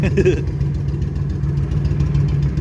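A cold carbureted motorcycle engine running without the choke, a steady low rumbling idle with slight unevenness, loud and close throughout the clip.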